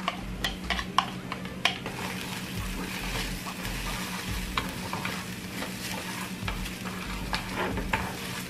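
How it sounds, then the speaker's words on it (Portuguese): Carrots fry with a steady sizzle in a pan on a home stove while a utensil stirs and scrapes them, light clinks of cookware scattered throughout, fairly close with no talking. "Vou colocar aqui a cenoura."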